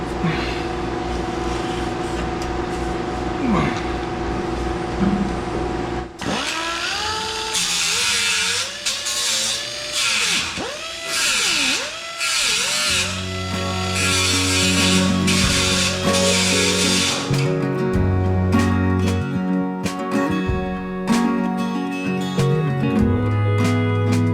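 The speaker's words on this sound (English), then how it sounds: "Grind up to my line right here so I can get a nice clean line on there to weld into." An angle grinder grinding metal on the back of a 1967 Chevrolet C-10 cab during rust repair, heard as a loud, sustained whirring whine that shifts pitch under load, with a steady motor hum and no talking.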